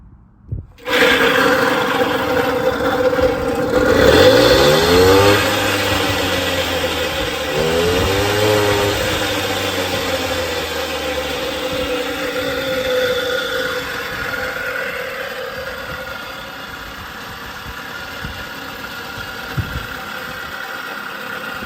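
A 1977 Puch Maxi Sport moped with an E50 engine, abandoned and once seized, sputters to life after a few tries and settles into a loud, steady two-stroke idle that runs close-up and continuous throughout.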